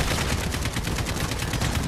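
Rapid shotgun blasts from enemies in the Modern Warfare campaign, a dense, loud barrage of overlapping shots pounding steadily throughout with no pause.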